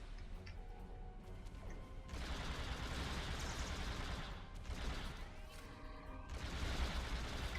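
Dense, continuous gunfire and blasts in a firefight against Klingons in Star Trek Online, with a grenade explosion amid rapid shots, loud and sustained with bursts swelling and falling.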